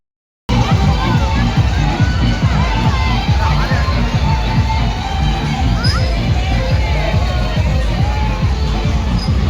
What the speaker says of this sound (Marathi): गर्दी इथं.